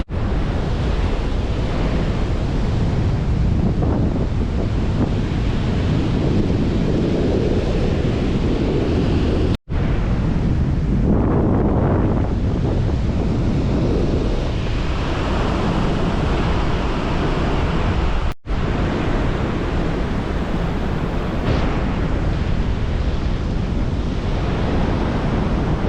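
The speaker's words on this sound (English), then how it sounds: "This is a great beach, real close to Corpus Christi." Surf rolls continuously onto a beach near Corpus Christi while steady wind buffets the microphone, a loud unbroken wash with no voices.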